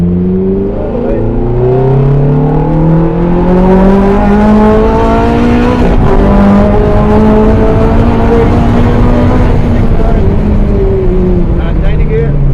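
Abarth 500 or Ferrari F430 at full throttle on the Mondello Park track, a loud in-car engine roar climbing steadily in pitch through the gears, with someone talking over it.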